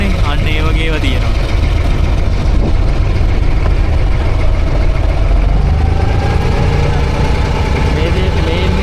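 A small boat engine runs steadily on Dubai Creek, a continuous low rumble and drone that stays loud and close throughout, with faint voices and waterside background mixed in.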